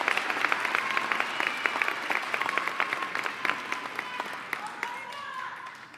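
Crowd at a high school senior awards day applauding and cheering for graduating seniors, scattered clapping with whoops and shouts, fairly distant and tapering off toward the end.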